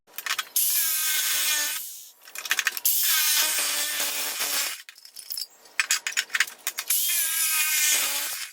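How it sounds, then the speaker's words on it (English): Power saw cutting a part for a custom dual intake on a C4 Corvette, in three long loud bursts with short pauses and brief rattling in between, no talking. "so now that I got it cut down to the size I want to, even though it ain't really no perfect cuts"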